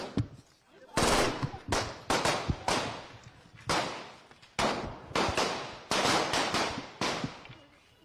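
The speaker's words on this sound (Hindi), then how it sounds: "ये गोलियों की जो गूंज आपको सुनाई दे रही है" Bursts of rapid gunfire crackle in loud, uneven volleys, some sharp single shots among longer rattling strings, echoing over several seconds.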